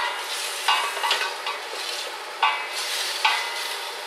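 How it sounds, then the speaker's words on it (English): Borscht being stirred and scraped around a plain, non-stick-free pan with a utensil, a steady sizzle broken by several sharper scrapes against the bottom, close and fairly loud with no talking. "We've got to be careful to keep on moving it around. Scraping the bits off the bottom that are going to burn."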